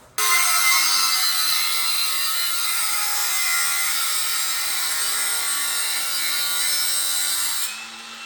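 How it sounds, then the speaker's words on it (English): A plasma cutter slices along a vehicle bumper in a garage, giving a loud, steady hissing roar with a thin tonal whine that runs for about seven seconds before cutting off. "she's getting lined up to go ahead and use the plasma and cut along that bumper"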